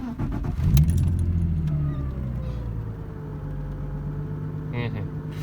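A Getrag 260 manual gearbox in a BMW E34 hums steadily from inside the car while driving, a low, continuous drone under road noise, with keys jangling early on and a brief voice near the end.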